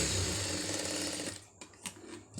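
A sewing machine stitching fabric for a hook strip, a fast steady whirring run for just over a second that stops abruptly, followed by a few faint mechanical clicks.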